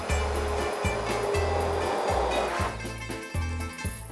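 Blender blitzing soup with tahini in a Cypriot home kitchen, a loud continuous roaring whir that pulses in short repeated bursts throughout.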